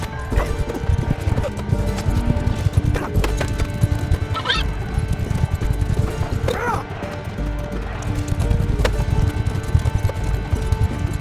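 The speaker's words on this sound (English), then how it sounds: "More horse combat." Mounted combat in Mount & Blade II: Bannerlord fills the mix with rapid clip-clop of galloping hooves, a few horse whinnies and clashing battle noise, loud and continuous throughout.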